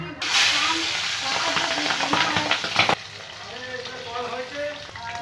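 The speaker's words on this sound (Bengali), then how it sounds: "তেল আর রিফাইন তেল দিয়ে মাছগুলো ভেজে নেব" Pabda fish fry in mustard and refined oil, a loud close crackling sizzle that settles into a softer, steady bubbling hiss partway through, with no speech over it.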